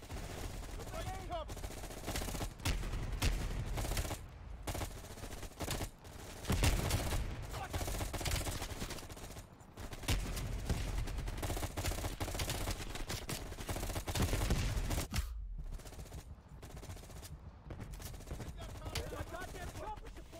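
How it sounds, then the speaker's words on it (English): Sustained bursts of gunfire from Black Ops Cold War, rapid automatic volleys shooting into a thatched house, loud and dense for most of the stretch with a few brief gaps and no one talking. "Either that or I literally shot every bullet into the house."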